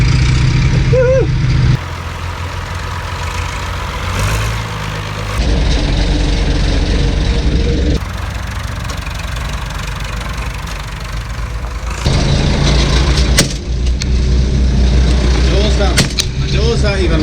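Old tractor engine running steadily while driving along a road, a loud continuous low rumble with rattling, shifting in tone at intervals, with people talking over it.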